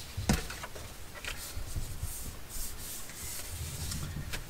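Glue stick rubbed across paper to stick down one side of a pocket in a craft project, a soft, close scraping with a few brief sharper strokes, quiet and steady without speech.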